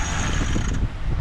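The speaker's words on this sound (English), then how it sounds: "then we pull in the Genoa furler and follow this process all the way till the Genoa is completely spooled up on the furler" A Genoa furler line on a sailboat is hauled in, giving a continuous mechanical whirring and rubbing with faint ratcheting, close and fairly loud, without talk.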